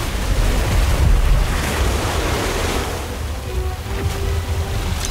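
Orb of water spell in Harry Potter: Magic Awakened, a rushing, surf-like wash of splashing water that swells loudly at first and then settles into a steady churning spray.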